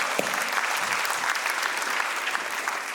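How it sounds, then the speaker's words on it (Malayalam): A crowd claps steadily, with dense applause at moderate volume, a few sharper individual claps popping out of the continuous wash. "നമ്മൾ രണ്ട് കൈ നീട്ടി ഒരു കയ്യടി കൊടുത്തേ പറ്റുക"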